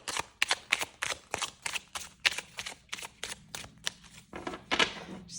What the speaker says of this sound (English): Just need like one more shuffle here.